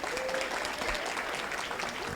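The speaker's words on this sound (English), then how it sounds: "Give our great friend Ellen Lipton a round of applause." Steady applause from the crowd at the 2024 Hazel Park Promise Zone banquet, a brief, even burst of many hands clapping throughout.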